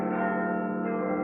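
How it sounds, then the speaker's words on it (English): A dense clamor of bells rings as a sustained, overlapping metallic tone, loud and steady throughout, as a sound effect in an audio drama of A Christmas Carol. "Soon the room was flooded with sounds and loud cacophonous bells."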